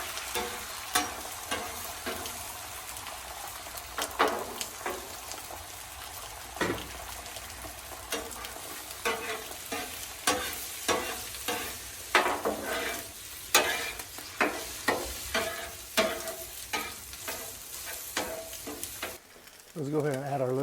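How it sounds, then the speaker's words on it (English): Eggs get scrambled on a Blackstone flat-top griddle, a continuous close sizzle broken by repeated scraping and tapping of a spatula against the metal surface. "Now we can do our egg scrambled."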